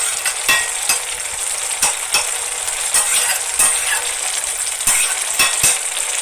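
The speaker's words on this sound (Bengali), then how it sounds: "এবার আমি ভালো করে নাড়াচাড়া করে নিচ্ছি গাইস" A spoon stirs pumpkin greens and crab curry in a frying pan, with a continuous sizzle and bright scraping clinks of utensil against metal recurring irregularly throughout.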